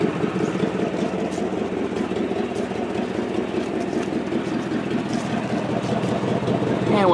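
A 3/4 ton Chevrolet Suburban engine idles steadily in a low, even rumble with the alternator running, close and constant throughout, while someone talks over it.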